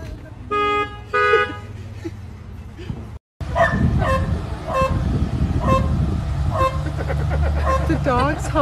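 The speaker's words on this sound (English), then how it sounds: "The dog's honking the horn." A car horn, honked by a dog, toots in short repeated bursts, then in a rapid series, with people talking and laughing over it.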